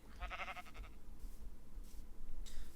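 Sheep in the Minecraft video game bleat in a short wavering call near the start, then fade out beneath low background hum and a few faint blips.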